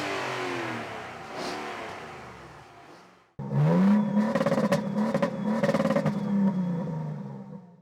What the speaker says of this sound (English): let's just listen to both of these engines